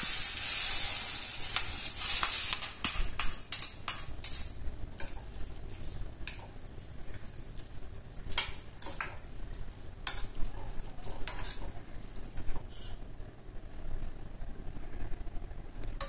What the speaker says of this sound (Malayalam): വെളിച്ചെണ്ണ ഒഴിച്ച് ചൂടായതിന് ശേഷം കടുകും റെഡ് ചില്ലി